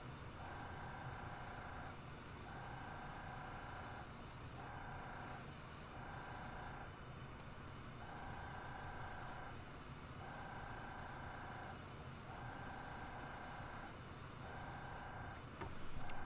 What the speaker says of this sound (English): we're gonna just spray along the back